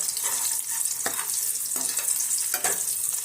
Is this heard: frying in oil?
yes